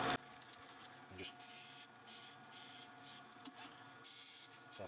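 Hand sanding the edge of a walnut box with 240-grit sandpaper: a run of short, close rasping strokes in quick bursts, each lasting under a second, with brief pauses between them.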